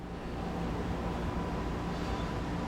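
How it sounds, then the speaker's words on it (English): A dehumidifier runs as a steady, faint broadband hiss and hum in a garage, unchanging throughout, with no talking. "that noise you hear in the background is the dehumidifier."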